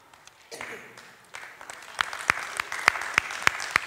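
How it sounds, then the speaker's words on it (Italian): Applause at the awards ceremony of the 2024 Acireale carnival, starting as scattered claps and building into louder, sharper individual claps near the microphone, with some background chatter underneath. "E parte un applauso."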